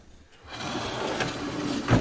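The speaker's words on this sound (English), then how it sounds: "You can see solid wood drawer box, full extension drawer glides" A soft-close drawer with a solid wood box slides out on full extension glides in a shaker-style kitchen cabinet, a smooth rising swish about a second and a half long that ends in a brief soft bump.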